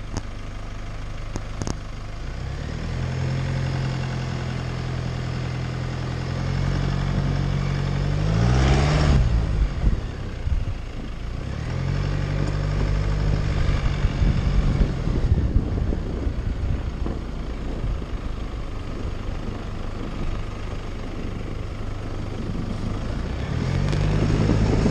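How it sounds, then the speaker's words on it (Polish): A Jeep Wrangler Rubicon with four-wheel drive engaged and the gearbox in drive pulls away on snow, a steady low engine rumble rising and falling with throttle, heard close under light wind buffeting. "pracuje napęd Jeepa"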